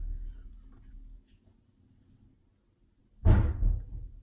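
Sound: door banging as someone comes home

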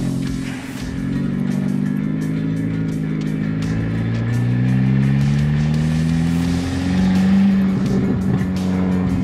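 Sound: Kia car engine revving with straight dump tube

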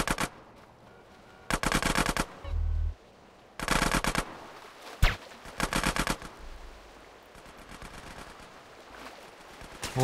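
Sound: gunfire in the video game GTA San Andreas

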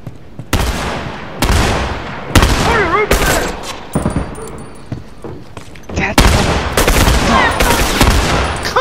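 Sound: gunfire from The Last of Us Remastered video game

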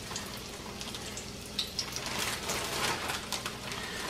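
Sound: breaded chicken of the woods mushrooms frying in hot oil

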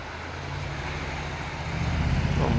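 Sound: tram passing on a street

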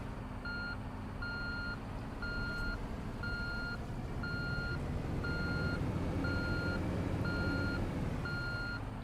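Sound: road roller reversing beeps in Construction Simulator 3 video game

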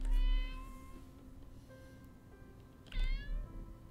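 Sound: kitten meowing in Copycat video game

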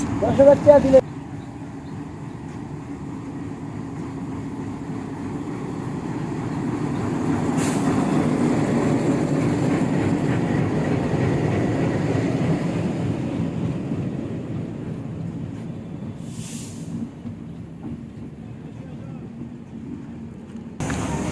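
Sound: Kapotaksha Express train arriving at Mirpur railway station

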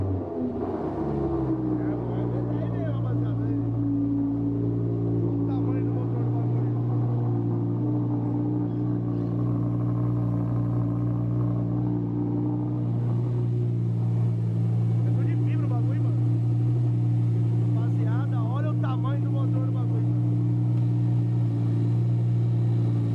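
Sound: cold 330cc car engine running and revving

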